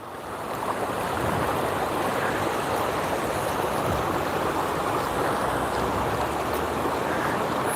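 Steady, full rushing water from a flowing river near Denver, carrying a good volume of early-season flow, a dense continuous wash close by with some wind noise mixed in and no talking.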